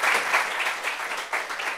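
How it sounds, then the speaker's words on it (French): A small group gives a brief round of applause for Lorraine at a family reunion gathering, steady clapping of moderate loudness lasting under two seconds. "Est-ce qu'on peut applaudir Lorraine?"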